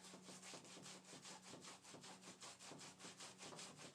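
A makeup brush rubbed back and forth on a cleaning pad, giving a steady run of soft, brisk swishing strokes, evenly paced and close, with no voices.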